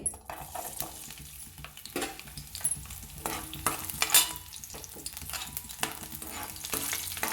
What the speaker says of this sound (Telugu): ఆయిల్ వేడెక్కిన తర్వాత వెల్లుల్లి వేసుకోవాలి